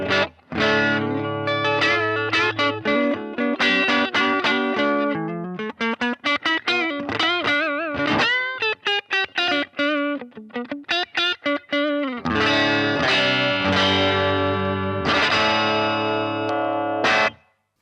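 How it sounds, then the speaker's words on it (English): Guitar played through a 1980s Marshall JCM-1C 50th Anniversary amp with the preamp turned down to about 2, giving a cleaner but still slightly driven tone of chords and single-note lines, loud and continuous with brief pauses. "I'm going to wind the preamp down to about 2 so you can hear how the amp kind of cleans up"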